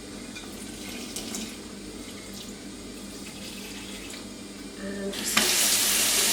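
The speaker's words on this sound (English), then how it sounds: "fill it up with hot water." A tap runs steadily into a plugged sink filling with hot water, water gushing louder near the end as the flow increases; a brief word is spoken early.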